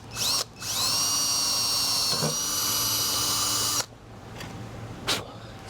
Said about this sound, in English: So now that I've got the pilot hole drilled